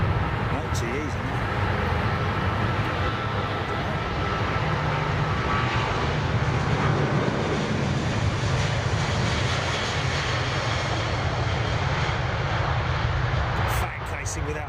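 Airliner powered by Rolls-Royce Trent 800 engines at London Heathrow, runway 27R, giving a steady, loud broadband roar that holds for the whole stretch, with people talking over it.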